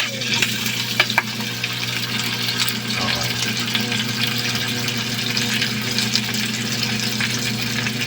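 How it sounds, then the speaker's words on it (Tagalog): Potatoes sizzle steadily in a hot pan during pork adobo prep, a dense continuous fry with occasional stirring clinks and scrapes, fairly loud and close throughout. "Prito mo lang yan, fried mo lang ng konti."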